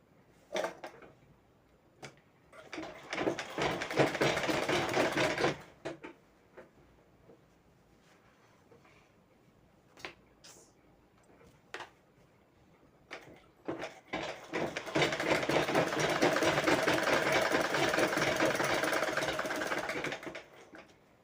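A sewing machine stitches the lining of a blouse in two long, steady, loud runs of rapid mechanical whirring, separated by a quieter pause with a few clicks and handling noises.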